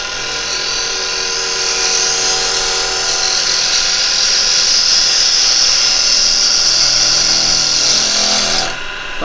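A Record Power wood lathe spins a small wooden coin disc while a cutting tool shaves it, making a loud steady whine with a high hissing cut that runs continuously and stops abruptly at the end.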